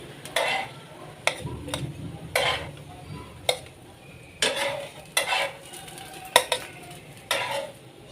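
Bread slices cooking in a pan over a low flame, with repeated sharp scrapes and clinks of a spatula turning them against the pan over a faint, steady background.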